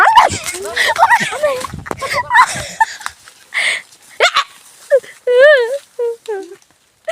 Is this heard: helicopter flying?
no